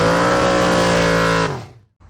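Car engine fitted with a new Holley carburetor that stumbles with a flat spot off idle, revved loudly and close for about a second and a half before it drops away abruptly.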